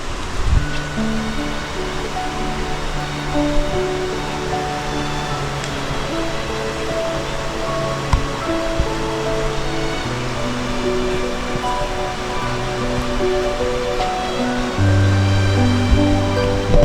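A waterfall near the Gauri Shankara temple at Gauri Shankara Kona gives a steady, dense rush of falling water that stays constant and fairly loud throughout, with faint tonal hum layered over it and no voices.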